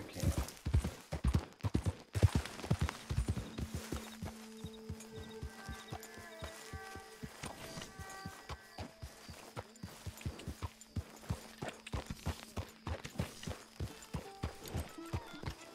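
Horse hooves clip-clop steadily on hard ground in Red Dead Redemption 2, a regular walking rhythm of sharp hoof strikes with soft musical tones and game ambience beneath.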